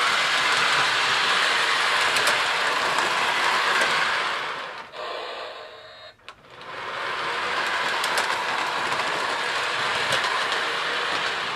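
A Lionel Plug N Play model train runs around its track, a steady close rolling rumble that dips and goes quiet for a moment midway as it passes away, then swells back to a continuous clatter.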